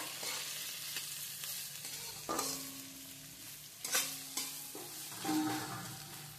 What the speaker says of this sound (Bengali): হালকা একটু ভেজে নেব আমরা পেঁয়াজটা